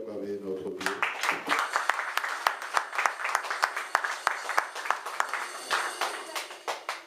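A church congregation claps and cheers in praise of God, with scattered, uneven claps rising after a voice speaking at the start and continuing as a loose, lively ovation.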